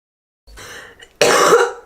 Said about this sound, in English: Oh, I coughed on you.